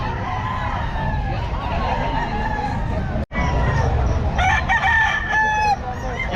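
Gamefowl roosters at a market crow repeatedly and cluck in a loud, dense chorus, with a crowd murmuring under them and a brief cut midway.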